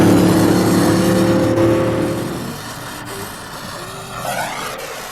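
A 1,500 bhp drag racing engine at the 1973 Santa Pod Internationals spitting back, a loud close rough roar that fades out, followed by a faint higher engine sweep near the end.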